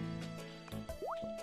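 Watering crops with a watering can in the farming game Harvest Moon: short liquid drip and pour effects, a quick splashy fill and plop sound over a soft game music background.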